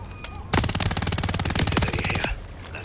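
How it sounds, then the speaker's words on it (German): A rapid automatic gunfire burst in the video game Modern Warfare 3, close and loud, lasting nearly two seconds with evenly spaced shots before stopping abruptly. "Schüsse."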